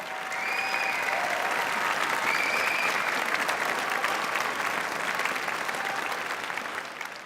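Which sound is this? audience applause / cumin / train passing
audience applause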